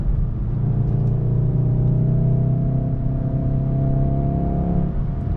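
Steady engine drone from a VW Mk7.5 Golf R fitted with an aftermarket intake, heard from inside while driving, a smooth low hum with a faint whir that holds level and eases near the end.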